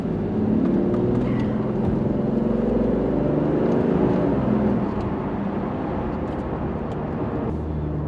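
Aston Martin DB7 Vantage engine, a steady loud rumble with a low drone running the whole time, holding fairly even with slight swells and no talk over it.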